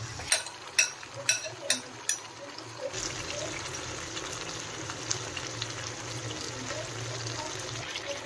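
Hot water is poured into a pot of chicken rassa curry with cooked masala and chicken, and a few sharp clinks give way to a steady, close rushing and bubbling hiss.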